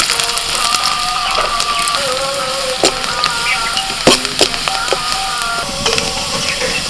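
Chopped garlic and ginger sizzle and crackle steadily in hot oil, with occasional scraping clicks from stirring, loud and close.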